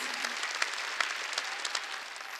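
A church congregation applauds at a Wednesday worship service, a dense steady wash of many hands clapping with a few sharper accents, moderately distant and unbroken by talk.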